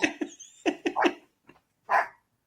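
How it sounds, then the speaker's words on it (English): Several dogs bark in short sharp bursts, a quick cluster of yelps followed by a pause and one last loud bark, fairly close and with no talk over them. "My dogs are mad."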